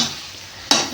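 Gongura pickle being stirred in a pan, a soft steady scraping sizzle followed by one sharper, louder stroke near the end.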